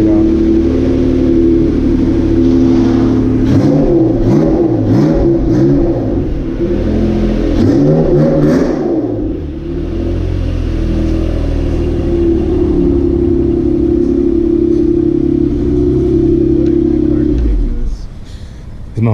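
A car engine revs loudly in repeated rising bursts as the car is moved out of a garage, then settles into a steady rumbling idle before cutting off near the end; a voice talks over it.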